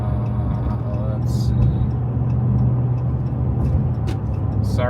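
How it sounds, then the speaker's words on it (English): A car engine runs steadily in traffic, a continuous low rumble heard from inside the vehicle, with a person talking over it throughout. "Sorry about the engine, it's getting a little louder."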